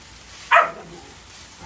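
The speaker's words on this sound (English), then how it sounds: "Sorry about the dogs." A single dog bark rings out once at moderate distance in a kitchen, brief and sharp against a quiet background.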